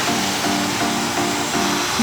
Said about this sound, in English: Okay, so now blow dry.